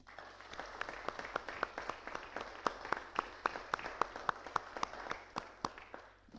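A small meeting audience gives a round of applause for a residents' council leader, with a modest run of distinct, fairly even claps heard from a short distance, fading out at the end.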